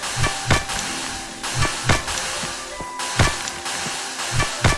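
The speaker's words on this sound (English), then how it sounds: "The drill makes it so much quicker." A mining drill in the video game My Time at Portia breaks rocks with a series of sharp, evenly spaced thumps and cracks over a low hiss. No one speaks.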